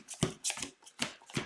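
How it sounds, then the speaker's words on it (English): A deck of cards being shuffled by hand, a quick run of riffling and slapping bursts in close, loud flurries with brief pauses between them, no talking over it. "I'm going to just start putting all the cards like this and do a quick shuffle"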